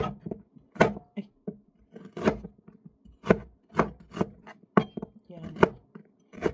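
A knife slices ginger on a cutting board in a kitchen, sharp close chops landing in an uneven rhythm of about a dozen strokes, with bits of quiet talk in between.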